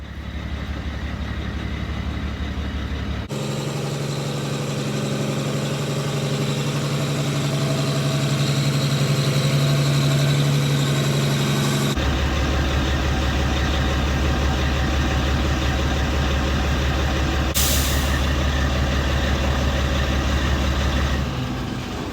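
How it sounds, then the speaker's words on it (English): A Freightliner FLD120 truck's diesel engine runs steadily and loudly throughout as the truck is driven and backed into a barn, the tone shifting between a deep idle rumble and a higher drone, with a brief hiss near the end. "backing up a truck with 0 rearview mirrors is not easy"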